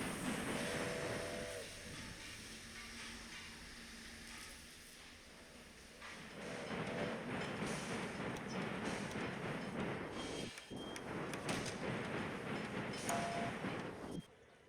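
Trains rumble and clatter in the railway management game Railway Empire, a loud, continuous mechanical roar with brief dips and a few faint tonal whistles, no voices.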